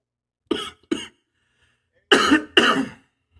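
A man coughs twice in quick bursts, then after a pause gives two louder, harsher throat-clearing coughs, close and alone in silence.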